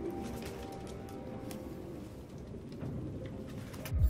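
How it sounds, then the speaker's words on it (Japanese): Pigeons coo softly in the video game Detroit: Become Human, a low, faint burbling that runs steadily through the background with no talk over it. "なあ、もうハトは勘弁してくれ。"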